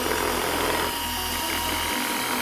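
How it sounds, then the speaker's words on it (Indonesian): A power drill bores into a wristwatch, a GF1 Eternity model, with a steady close-up whirring and grinding that runs without a break for the whole stretch. No voices are heard. "Kita bor kayak gini nih."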